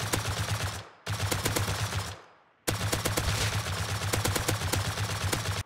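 Three bursts of rapid automatic fire from a suppressed rifle with a laser sight in the video game Rust, each burst a dense rattle of shots with short silent gaps between them, no talking.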